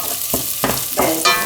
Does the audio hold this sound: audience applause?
no